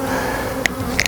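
Honeybees hum steadily inside a calm, queenright hive during a rescue, a close, continuous buzz with a couple of faint higher clicks near the end.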